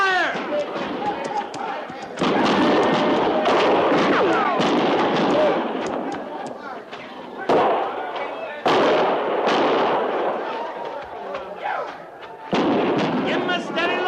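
Battle sound effects in a radio drama: loud bursts of gunfire and explosions keep erupting in heavy waves, with shouted voices mixed into the din between blasts.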